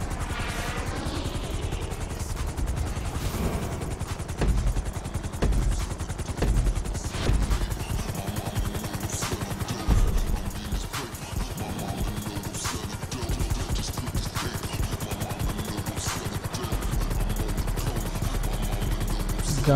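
Helicopter flight in GTA V, a steady loud rotor and engine drone running throughout, heavily overlaid by rapid bursts of gunfire and clattering impacts.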